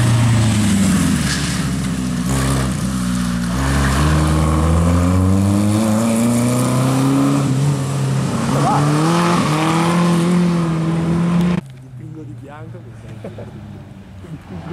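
A race car engine roars and revs in a PS4 racing game, its pitch sweeping up and down with gear changes, loud and continuous under steady talking until it drops away near the end.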